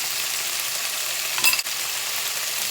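Tofu stir-frying in sesame oil sizzles steadily in a pan, with a brief clatter of stirring midway.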